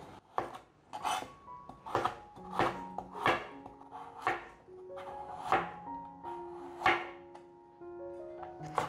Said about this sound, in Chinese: 把红萝卜切片